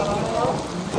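Heavy rain falling in a steady, loud, dense hiss with no break and no talk, close by.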